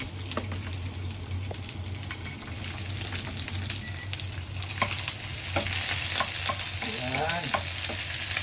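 Garlic and onion frying in a pan, a steady bright sizzle with scraping stir strokes throughout, growing slightly louder toward the end, with no talking.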